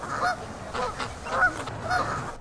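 Waterfowl honk and quack in repeated bursts, fairly close and clear, with no talking.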